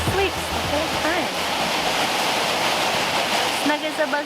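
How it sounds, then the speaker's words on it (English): Steady roar of Stocking Creek Waterfall heard close by, a continuous broadband rush of falling water filling the whole clip with no pauses. "we gotta find a way to get underneath that waterfall"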